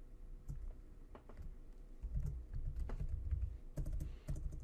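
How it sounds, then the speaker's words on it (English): Quick, uneven typing on a computer keyboard while coding in Ruby, the clicks coming in close bursts with short pauses between them. Faint, close-miked, and heard alone with no talking. "I'm not on this keyboard every day and I am stumbling"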